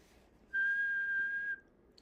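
A lone person whistles one sustained, steady tone for about a second, clear and moderately loud, with near silence before and after.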